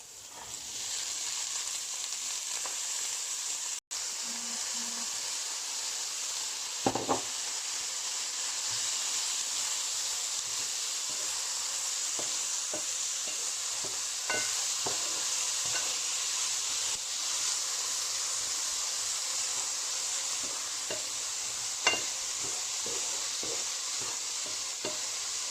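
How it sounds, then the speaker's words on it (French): Minced meat sizzles steadily in a hot pan, with occasional scrapes and clacks of a utensil stirring it throughout; a continuous close frying hiss with no talking. "je vais rajouter donc ma viande hachée"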